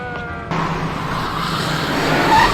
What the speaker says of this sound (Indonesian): Aksi kejar-kejaran kembali terjadi di jalanan Las Vegas.